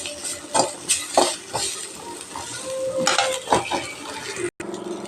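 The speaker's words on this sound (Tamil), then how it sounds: "நல்லா எண்ணெயில் வதங்கணும்" Black nightshade (manathakkali) greens are sautéed in oil in a pan, with soft sizzling and repeated scraping and clinks of a spoon against the metal, one brief cut near the end.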